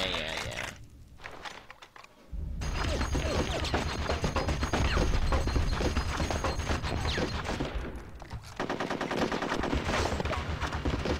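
Gunfire in Conker's Bad Fur Day pounds in loud continuous bursts after a brief quieter opening, with mechanical clatter mixed in and a short dip before the shooting resumes.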